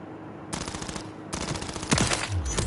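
A new submachine gun in Modern Warfare 3 fires in rapid full-auto bursts, a short volley followed by a longer sustained stream of shots with mechanical clatter, loud and close.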